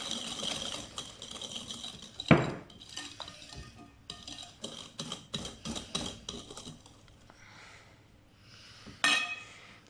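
A spoon stirs chocolate batter in a bowl with a quick run of rhythmic scraping and clicking strokes, close and quiet, set off by a couple of sharper knocks against the bowl.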